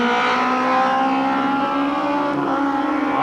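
A 1992 Pontiac Sunbird race car with a two-barrel carbureted four-cylinder engine at a weekly speedway, its engine droning loudly and steadily at high revs, with a slight rise in pitch, close and continuous.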